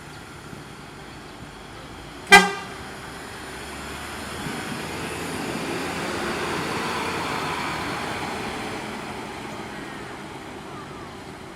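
A tour coach of the PO ANS fleet pulls away from a depot in Padang Pariaman, bound for Jakarta, Depok and Bandung. One short, sharp horn blast rises over a steady rumble of engine and traffic.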